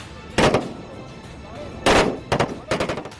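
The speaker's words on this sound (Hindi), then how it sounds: "मशीन गनों से दनादन फायरिंग हो रही है" Machine guns fire during a military training exercise in several loud, close bursts of rapid shots, separated by brief pauses and ending in a quick rattling sequence.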